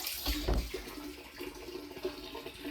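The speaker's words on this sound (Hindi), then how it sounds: "सरकारी पानी आ रहा है ना, तो मैं उसको भरने की कोशिश कर दी" Water from a municipal supply tap runs into large household containers, a steady splashing rush with a few louder gushes, close and continuous throughout with no talking.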